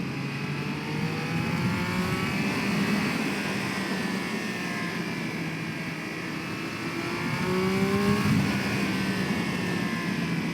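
A 2021 Triumph Speed Triple 1200 RS, 180 hp, accelerates uphill with the engine revving high, rising and falling pitch sweeps repeating as it climbs through the gears under heavy wind rush.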